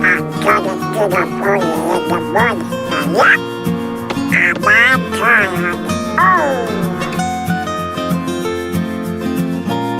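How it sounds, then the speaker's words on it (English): Donald Duck's cartoon quacking voice chatters in several excited, nasal bursts over a bright musical backing track, loud and close. "Donald Duck."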